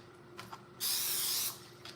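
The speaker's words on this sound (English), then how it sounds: "And then you just want to spray it on your chicken. Spray it on both sides" Zero-calorie cooking oil spray hisses onto raw chicken breast in one close, steady burst lasting under a second, with faint handling clicks before and after.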